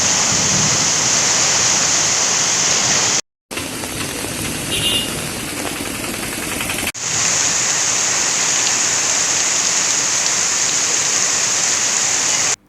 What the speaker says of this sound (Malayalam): ചുരുങ്ങിയ സമയത്തിനിടെ തീവ്രമഴയാണ് ഒറ്റപ്പാലത്തും സമീപ പ്രദേശങ്ങളിലും പെയ്തിറങ്ങിയത്